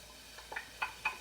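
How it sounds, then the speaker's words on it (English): Onions and vegetables being stirred in oil for cauliflower rice, with a faint low sizzle under a few soft scraping stirs. "So I'm just going to stir this around, let it get coated with the oil"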